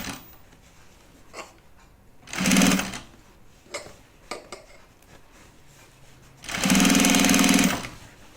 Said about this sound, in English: This is some pretty heavy duty sewing.